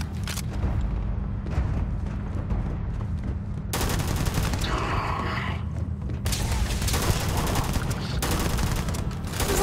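Dense rapid gunfire in Starfield rattles almost without pause, loud and close, in sustained bursts over a constant low rumble of combat noise.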